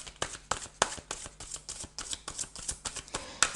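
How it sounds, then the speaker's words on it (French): A deck of tarot cards being shuffled up close, a run of quick crisp riffles and slaps in an uneven rhythm with no voices. "Alors, on va demander une autre carte au tarot."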